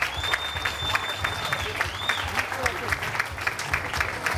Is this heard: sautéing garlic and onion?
no